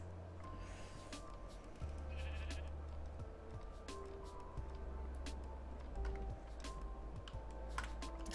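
Sheep in a video game bleat several times over a steady low hum, mid-level and repeated, mixed with soft keyboard typing and scattered clicks.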